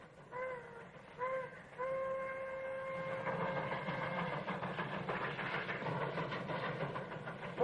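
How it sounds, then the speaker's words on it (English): A steam train whistle blows in three sustained blasts, then the train chugs and rattles along steadily, growing fuller and louder. "Smokestack's rolling that train."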